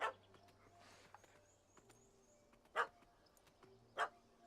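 Barks from a dog in The Witcher 3 video game, aimed at a cat up a tree: a few sharp, separate barks over a quiet game soundscape with faint tones and birdlike chirps.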